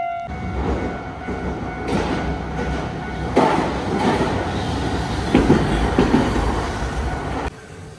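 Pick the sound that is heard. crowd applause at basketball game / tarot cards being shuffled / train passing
train passing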